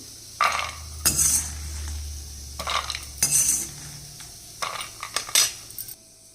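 Roasted peanuts are moved from a pan onto a plate with a metal utensil, producing a series of clinks, scrapes and rattling taps in irregular bursts, close by.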